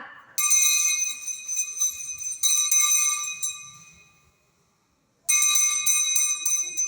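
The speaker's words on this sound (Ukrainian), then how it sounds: "Останній дзвоник пролунав" A school's last bell rings at an end-of-year ceremony in 2024. It gives bright, metallic ringing in three long bursts, with a silent pause before the last one.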